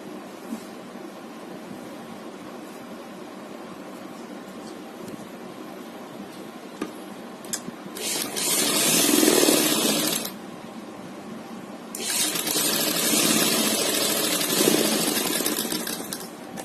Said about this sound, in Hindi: अब हम इसमें साइड की सिलाई भी लगा कर दिखाते हैं।